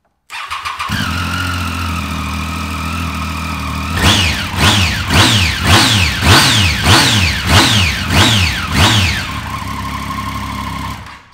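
Triumph Street Triple R motorcycle engine idling steadily, then blipped through a rapid series of about nine sharp revs that rise and fall before settling back to idle, loud and close with no talking.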